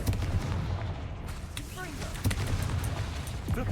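Confringo blasting spell fired in Hogwarts Legacy, loud booming explosive blasts over continuous game battle noise and music, with several bursts through the moment and a voice speaking underneath.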